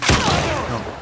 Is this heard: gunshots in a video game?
yes